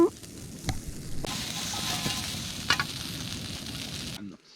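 Food fries in a frying pan over a small camp stove, giving a steady, crackling sizzle. A few sharp pops and a bump break in partway through, and the sound cuts off near the end. It is moderately close and fairly quiet.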